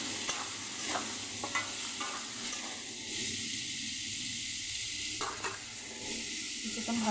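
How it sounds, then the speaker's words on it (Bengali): Onions and potatoes frying together in a pan, a steady close sizzle with occasional stirring scrapes, continuous and fairly soft, no talking. "পেঁয়াজটা এবার ভালো করে ভেজে নেবো আলুর সঙ্গে।"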